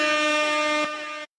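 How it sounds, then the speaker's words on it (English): A loud, sustained air horn blast holds a steady tone for just over a second, then cuts off abruptly into silence. "Really? The air horn?"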